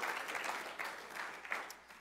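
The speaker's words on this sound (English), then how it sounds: "give yourself a round of applause" A church congregation applauding, a soft even patter of many hands that swells and fades slightly, fairly quiet and with no talk over it.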